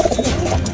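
Several racing pigeons coo softly and continuously in a loft, a low murmuring chorus close by with overlapping calls.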